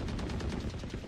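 Rapid gunfire in the tactical shooter Valorant, a quick burst of evenly spaced shots heard fairly faint and distant, lasting about a second.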